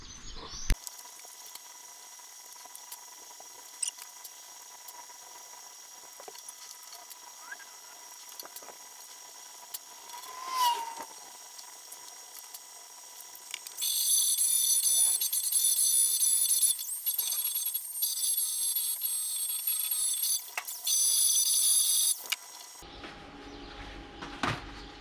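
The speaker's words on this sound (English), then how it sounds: "probably shouldn't have used the TIG for that little repair" TIG welder fixing a tiny pinhole in a car's inner fender, with a steady hissing buzz and a thin high whine holding for about eight seconds after a quiet stretch of faint shop noise.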